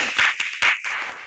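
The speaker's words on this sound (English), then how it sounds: "Give a round of applause." A classroom of students gives a short round of applause for a classmate during a Grade 12 agriculture lesson, a few scattered, uneven claps, sparse and fairly close.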